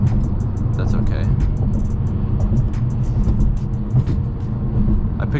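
BMW M6 car driving through rush-hour city traffic, a steady low engine rumble with road noise throughout, with talk over it.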